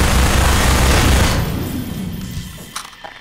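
A player's gun fires a rapid, loud burst in Half-Life 2 that ends sharply at about 1.4 seconds, followed by a fading tail and a few faint clicks and thuds.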